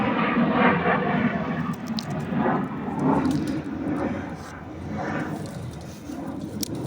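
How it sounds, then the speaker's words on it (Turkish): A loud, steady roar of airplanes passing low overhead near an airport, swelling and easing in waves over several seconds. "Şu an uçaklar geçiyor."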